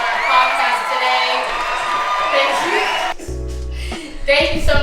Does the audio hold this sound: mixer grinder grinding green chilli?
no